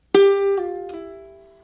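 A single plucked ukulele string sounds three descending notes in a double pull-off, a bright attack followed by two softer pull-off notes about a third of a second apart, ringing out cleanly and alone.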